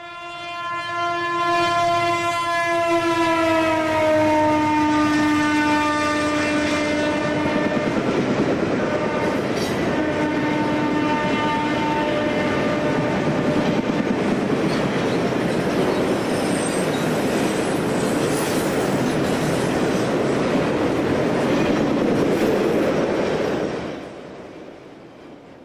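A Conrail freight train rumbles past up close, its horn sounding long harmonic blasts early on, followed by steady wheel and car noise that fades out at the end.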